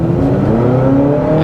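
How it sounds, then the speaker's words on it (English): A 2023 Honda CR-V or Toyota RAV4 hybrid pulling away from a stop sign, a steady loud engine and motor drone with a rising whine heard from inside the cabin, no talk. "Now let me come to the stop sign and try the acceleration one more time."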